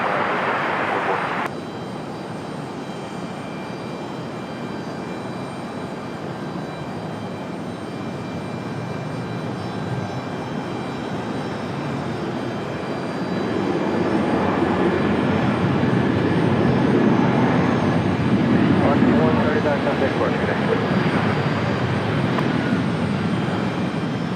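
An Airbus A320 jet airliner at Raleigh-Durham airport gives off a steady broad engine roar that grows louder and rougher about halfway through; no one talks.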